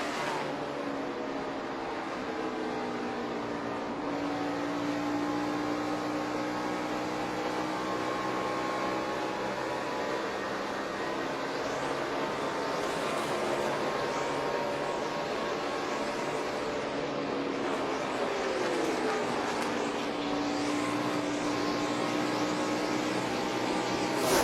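Onboard engine of Kevin Harvick's NASCAR race car, leading at Homestead-Miami, roaring continuously at high revs with rising and falling pitch as it lifts and accelerates through the laps, loud and close, with no talking.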